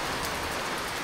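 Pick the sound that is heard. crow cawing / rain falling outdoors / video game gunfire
rain falling outdoors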